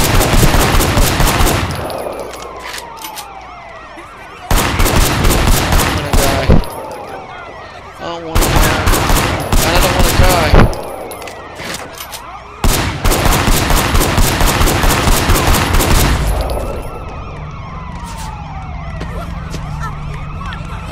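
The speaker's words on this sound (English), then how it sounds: "Oh, they're shooting machine guns." Machine-gun fire in the video game Sleeping Dogs, with loud rapid bursts of automatic gunfire that come in repeated bursts separated by short gaps, along with sirens and frantic talk.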